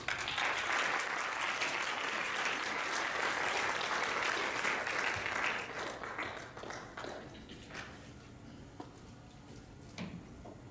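Applause from an audience at a keynote address for an age-friendly community event in Edmonton, loud and sustained clapping that fills the room, then thins and fades toward a few scattered claps.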